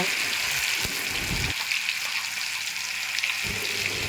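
Ground spice paste fries in hot mustard oil in a kadai for a fish-roe fritter curry, a constant, close hiss with low thumps from stirring at the start and end.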